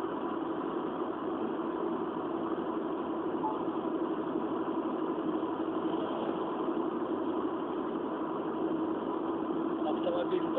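Cabin of a base-spec Skoda Rapid with automatic gearbox on winter tyres while driving, filled with a steady, fairly loud drone of engine and road noise, continuous and even throughout.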